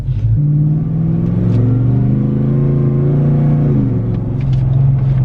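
A supercharged 5.3 Chevrolet Tahoe engine with Magnuson supercharger revs up close, a deep throaty rumble rising and falling in pitch, loud and continuous throughout.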